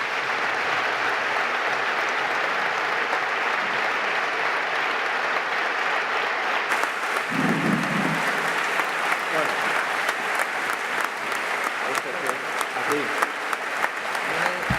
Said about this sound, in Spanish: Merece nuestro mayor reconocimiento y un gran aplauso